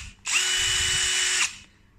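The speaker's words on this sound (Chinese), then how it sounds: "锂电池的手电钻，无刷的" A powerful brushless 42V lithium-battery cordless drill spins up sharply and runs at a steady high whine for about a second before cutting off and winding down, close and loud with no talking.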